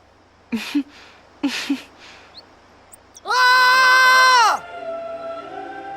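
A character in Final Fantasy X lets out one loud, sustained scream of a few seconds, preceded by short vocal bursts and followed by a lower lingering tone, standing alone without other talk.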